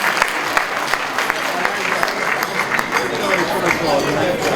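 An audience applauds His Excellency at an inaugural lecture. Scattered, moderately loud clapping runs for several seconds with crowd chatter and voices beneath it.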